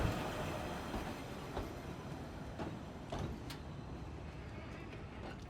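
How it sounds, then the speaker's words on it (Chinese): An electric train runs slowly, around 40 km/h, along a rural Japanese railway, giving a steady close rumble with faint rattles and occasional sharp clicks throughout. "那里的电车呢，时速只有40公里"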